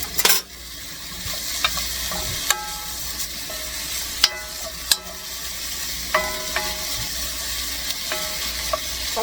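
Bacon frying in a pan for a warm spinach salad dressing, a steady close sizzle with occasional sharp clinks and stirring taps.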